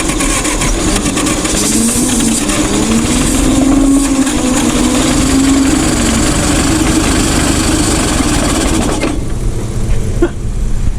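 A vintage forklift engine that had sat for years running continuously, loud and close, with a steady rough drone and a wavering pitch that rises and falls before easing near the end.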